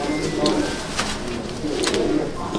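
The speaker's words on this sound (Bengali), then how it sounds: "এই কালডুমা পায়রা, এটা আবলুক পায়রা" Abluk Madrasi pigeons coo with soft, throaty, repeated phrases close by in a loft, with some voices in the background.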